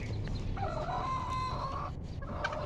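Backyard chickens cluck and call softly at close range in a short burst of overlapping, faint vocalizations, with no talking.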